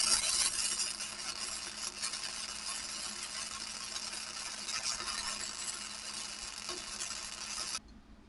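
Welding a large gap on a winch mount for a 12000 lb Traveller winch, a continuous crackling hiss that runs steadily for about eight seconds before cutting off abruptly, close but fairly quiet.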